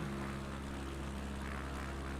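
Steady, loud drone of a propeller-driven light aircraft engine in Microsoft Flight Simulator on an Alaska bush flight, a continuous even hum with no talk over it.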